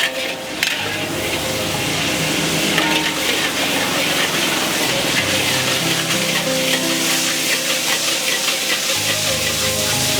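Chili paste for stuffed fish cooking in a little oil in a pan gives a loud, steady sizzle that runs throughout, with faint scraping and stirring sounds underneath.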